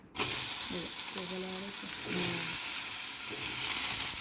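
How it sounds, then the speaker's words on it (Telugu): Chopped ridge gourd dropped into hot oil in a kadai sizzles and crackles loudly and steadily from the start, close up, while a voice talks quietly over the frying. "దీని తర్వాత మనము బీరకాయ అనేది ఇదే నూనెలో వేసుకోవాలండి, ఇదే కడాయిలో ఇలా వేసుకోవాలన్నమాట."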